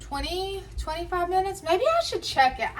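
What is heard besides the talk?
No everyday noises stand out.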